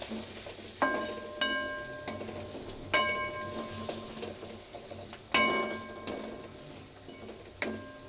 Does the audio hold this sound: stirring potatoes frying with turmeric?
yes